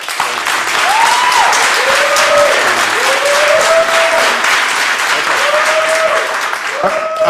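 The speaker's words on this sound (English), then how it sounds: "if we could refrain from clapping" Audience applause fills a city commission meeting, steady and loud from start to end, a dense crowd clapping with no talk over it.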